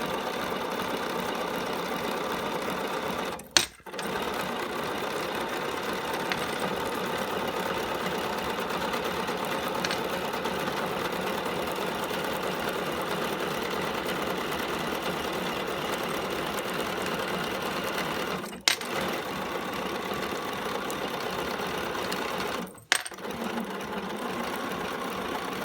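A sewing machine stitches a curve through denim jeans fabric, running steadily and loudly at close range with a continuous mechanical whir, broken by three brief pauses where the motor stops and restarts.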